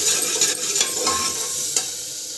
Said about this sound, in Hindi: ये देखिए मसाला जो है हमारा तेल छोड़ दिया है सारा, तो समझ लो कि मसाला हमारा पक गया